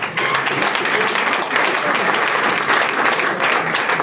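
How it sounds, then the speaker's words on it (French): An audience at an opening-day meeting of Forever Living in Togo breaks into sustained, dense applause, a loud continuous crowd of clapping hands that holds steady throughout. "Je vais vous demander de commencer par applaudir la paix."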